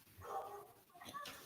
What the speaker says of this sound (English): I apologize if there's any dogs barking in the background